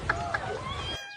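A person imitates a cat, voicing a couple of drawn-out meows up close before falling silent.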